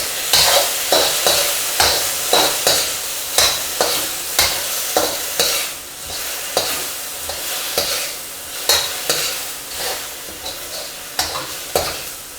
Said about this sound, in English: And this is going to be the quick fry. So let's drop those in.